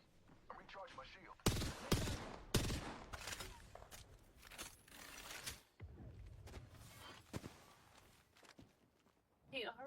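Video game gunfire in a squad shooter, rapid cracking bursts and scattered single shots at varying loudness, with people talking over the action.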